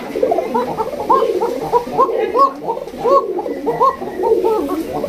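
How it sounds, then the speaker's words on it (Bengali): A steady stream of frightened pigeons cooing sharply close by, many soft throaty calls overlapping in a quick rolling rhythm with no talk. "দেখছেন কি ডাক একদম কড়া একদম কবুতরগুলো ওরা ভয় পাচ্ছে"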